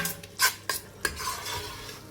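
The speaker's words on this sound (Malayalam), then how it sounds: "അതിലേക്ക് ഒരു 2 തക്കാളി ചോപ്പ് ചെയ്തത് ഇട്ട് കൊടുക്കുക. നന്നായി ഇളക്കിയിട്ട് എണ്ണ തെളിയുന്നത് വരെ വഴറ്റിയെടുക്കുക." Chopped tomatoes stirred into masala in a pan, a few quick scrapes and clinks of a spoon against metal over a soft background sizzle.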